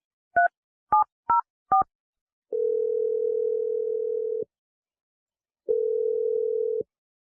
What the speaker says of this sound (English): Okay, I'm dialing it now.